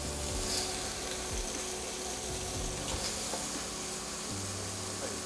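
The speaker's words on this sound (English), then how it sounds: "what we're looking to do here in this step is just to get a nice sear on these thighs" Chicken thighs searing in a pot for a one-pot chicken and dirty rice dish, giving a steady, even sizzling hiss that holds throughout with a low background rumble and no talking.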